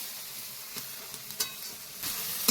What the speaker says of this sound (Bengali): ওই মশলা কষানো চলছে।